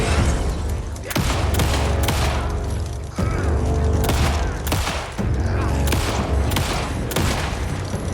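Gunfire from weapons in the video game Alan Wake 2, loud heavy shots booming in irregular bursts, roughly every second or two, over a dense constant game soundscape.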